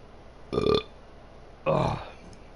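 A man gives two loud, close burps about a second apart, with quiet room noise between them.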